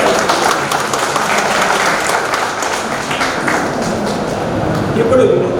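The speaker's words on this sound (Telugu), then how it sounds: "ఈ సందర్భంగా వారిద్దరి మనం ఒకసారి చప్పట్లు పెట్టి" An audience at an Ugadi celebration event claps steadily together, producing a dense, continuous round of applause with some voices underneath.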